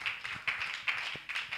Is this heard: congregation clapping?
yes